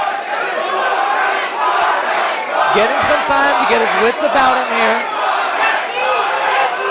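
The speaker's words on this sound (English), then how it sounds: "The crowd is chanting for Jorge right now." A boxing crowd at a Super Fight Fest event chants for fighter Jorge, a loud, dense wall of rhythmic crowd voices with pitched chanting swelling midway, under a commentator talking throughout.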